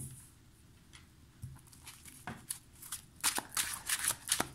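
A Gold Foil Tarot deck being shuffled by hand, soft papery riffles and patter that build into louder, quicker bursts of card flicks toward the end, close and alone.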